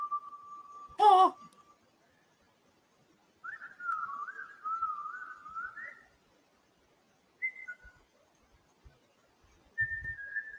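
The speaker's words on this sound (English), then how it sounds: "You can hear what sounds like distant whistling in the woods behind her home" A few faint, wavering whistles drift in from a distance in Appalachian woods, separated by quiet gaps, with a short louder burst near the start.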